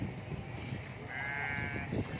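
A goat lets out a single drawn-out, wavering bleat amid the constant crowd murmur of the Lalukhait bakra mandi, a livestock market selling sacrificial goats.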